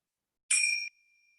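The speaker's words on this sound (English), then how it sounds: "I'm going to ring the bell again." A mindfulness bell is struck once, giving a bright, clear ring that drops quickly and then lingers as a faint, pure sustained tone, with no voices.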